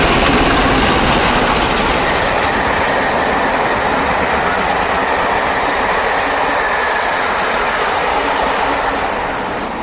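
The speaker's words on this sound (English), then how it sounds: "Sir Lamiel passes Pangbourne with a Waterloo to Gloucester Cathedrals in October" Steam locomotive Sir Lamiel hauling a Waterloo to Gloucester Cathedrals train past Pangbourne, a loud, close, continuous roar of engine and rolling wagons with faint rhythmic clatter that slowly fades.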